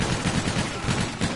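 Rapid video game gunfire chatters in a quick, steady rhythm of close shots, loud and continuous across a brief burst.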